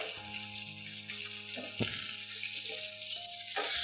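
Halibut fillet frying in an iron wok, giving a steady close hiss and crackle of hot oil with faint rattling and tonal hum underneath, unbroken throughout with no talk.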